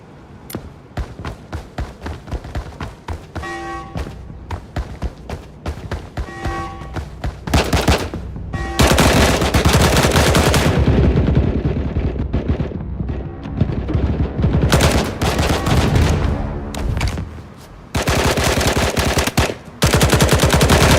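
Gunfire and combat effects from a video game tech demo rattle in fast, sustained automatic bursts with individual shots, sharp impacts and small detailed sounds layered in, loud and close with short pauses between volleys.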